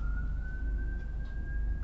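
Emergency siren from a fire truck or ambulance driving past, a single steady wailing tone holding loud and continuous throughout over constant traffic rumble.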